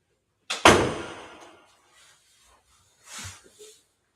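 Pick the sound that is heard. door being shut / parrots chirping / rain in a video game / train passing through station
door being shut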